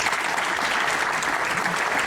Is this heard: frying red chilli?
no